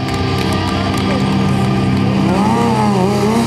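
A freestyle motorcycle engine drones loudly and steadily, close by, as the rider holds a no-handed circle wheelie, its pitch sliding up and down with throttle changes.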